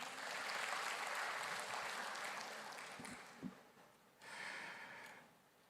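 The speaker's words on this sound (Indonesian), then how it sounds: "kita juga tepuk tangan buat beliau" An audience claps for a dignitary at a police chief's iftar gathering with a labour union in Indonesia; moderate, fairly distant applause runs for about three seconds, pauses briefly, then swells again for a shorter burst.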